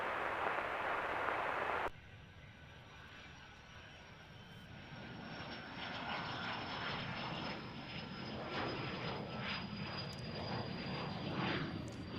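A fixed-wing airplane on takeoff from runway 17 at Gerald R. Ford International Airport in Grand Rapids, a steady distant engine roar that swells gradually, heard alone after a brief louder noise at the start.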